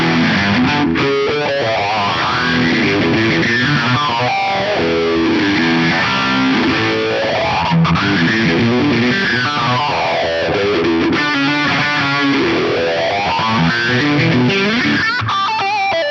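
Electric guitar played through an EHX Small Stone V1 phaser, a 1970s-style effect, with slow sweeping swirls rising and falling across sustained distorted chords, loud and continuous with no talking.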